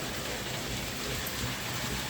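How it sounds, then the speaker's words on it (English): Heavy rain pouring steadily outside, a dense unbroken hiss of falling water and drops hitting surfaces, loud and constant with no voices. "Raining like crazy outside."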